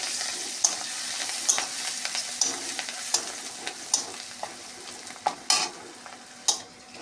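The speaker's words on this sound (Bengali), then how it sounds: "মশলাগুলো ভাজা ভাজা হয়ে গেছে" Spices with chopped ginger and chilli frying in a pan while being stirred, giving a steady soft sizzle broken by repeated sharp scraping strokes of the spoon, close and fairly quiet with no talking.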